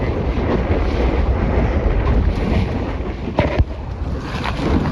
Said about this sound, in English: Wind's just a little bit more gusty, so I just reef it in a tiny bit.